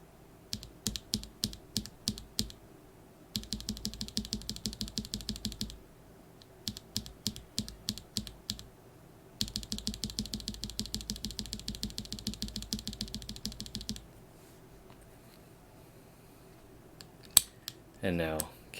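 A Gateron Clear keyboard switch fitted with a yellow spring and a Kailh Polia stem, pressed over and over: quick bursts of sharp, close clacks in steady rhythm, broken by short pauses, with a brief rattle near the end.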